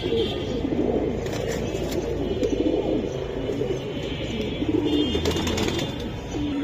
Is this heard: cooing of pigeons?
yes